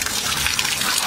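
Tap water runs steadily in a house, a continuous broadband hiss and gush that stays close and even throughout, with no talking over it.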